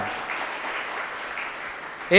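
An audience at a humour club event in Erode breaks into steady clapping for women, a dense even patter that holds for about two seconds before a voice cuts in at the end.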